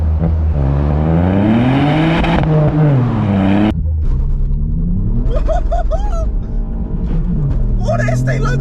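A Ford Fiesta ST Mk8 with 200 bhp revs hard while held on launch control, the engine note climbing and falling in loud, close sweeps, then dropping back and surging again in shorter bursts, with a voice briefly audible.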